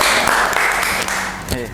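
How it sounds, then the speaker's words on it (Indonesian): A classroom claps after a student presentation, a brisk, dense patter of many hands at close range, with chatter and a voice emerging as the applause fades. "Oke, tepuk tangan."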